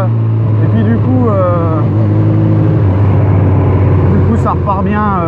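A Honda CB1000R engine rumbles steadily, with a throttle blip as the rider downshifts. The hum is loud and continuous, and someone talks over it throughout.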